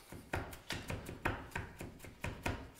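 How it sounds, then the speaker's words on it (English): A knife chops garlic coarsely on a board in a steady, even rhythm of about ten crisp, close taps, with no talking. "you don't want to chop it too small, you can be fairly coarse with this"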